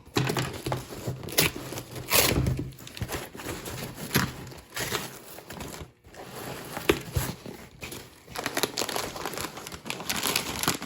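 A taped-up package holding an N scale model train is unwrapped with close crinkling, crackling and tearing of tape and wrapping in irregular bursts, without talking.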